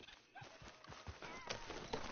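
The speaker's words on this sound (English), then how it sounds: "Mount your horse." Horse hooves trotting in Red Dead Redemption 2, a soft rhythmic clip-clop of hoofbeats under a layer of game ambience and a faint snort.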